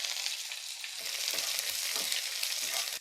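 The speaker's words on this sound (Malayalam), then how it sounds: "കടുക് പൊട്ടി നമ്മുടെ വറ്റൽമുളക് ഇട്ട് കൊടുത്തു." Mustard seeds, dried red chilies and curry leaves fry in hot oil for a fish curry tempering, producing a dense, loud, steady crackling sizzle with no speech.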